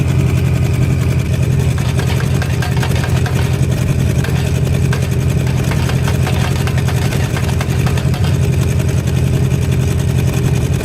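A small gasoline engine on a pinecone project runs steadily at a low idle, with a continuous loud, rough, rumbling drone and raspy exhaust suggesting a worn muffler, and no talk over it.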